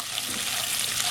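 Onion frying in unsalted butter gives a steady, close sizzle with soft crackling, constant and even throughout with no talk.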